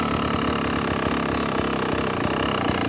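A 2025 Beta XTrainer 300 two-stroke motorcycle idles just after starting, a loud, steady close-up engine rattle with constant mechanical clatter and no talk.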